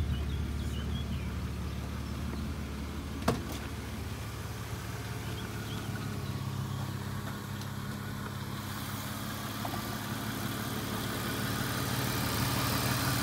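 A car's BMW six-cylinder engine idles steadily for a long stretch, a low rumbling drone that stays fairly even, with one short sharp click partway through.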